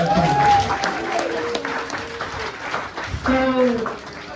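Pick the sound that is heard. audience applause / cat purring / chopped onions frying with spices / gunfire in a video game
audience applause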